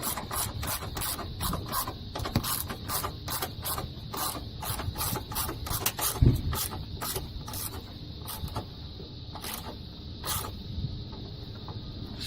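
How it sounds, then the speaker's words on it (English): A nut is tightened down on the air filter housing of a 2004 Mustang V6 3.9L, giving a rapid series of sharp ratcheting clicks with scraping metal handling, close and fairly loud. "Then go ahead and just fasten down your"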